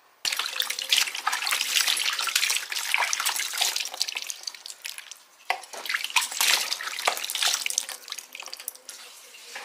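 Water splashes repeatedly as hands rinse a face pack off a face, giving close, irregular sloshing and dribbling sounds with a short pause midway.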